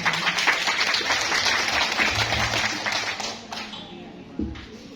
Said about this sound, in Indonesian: Tepuk tangan untuk ibu-ibu semua.